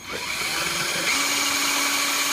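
A power drill whirs steadily at close range, its pitch settling into a sustained hum as it bores through a longboard deck board.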